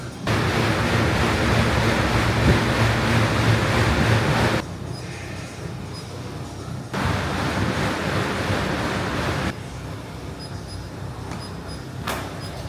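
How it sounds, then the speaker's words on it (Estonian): Strong wind buffets the microphone outdoors in gusty bursts, roaring loud for several seconds, easing, then surging again, with no voices. "Kui inetu ilm täna on, jõhkar tuul."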